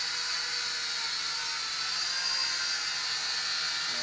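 The propellers of a Polaroid PL300 wifi drone whine in a steady, high-pitched buzz while in flight, holding constant and moderately loud with no talking.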